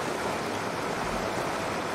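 A waterfall in the video game My Time At Portia pours as a steady, even broadband rush of falling water that stays constant and moderately loud throughout, with no voices.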